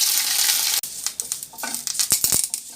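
Curry leaves dropped into hot coconut oil, first a steady loud hiss of frying, then a sudden cut to sharper crackling spits and pops as the leaves sizzle and are stirred.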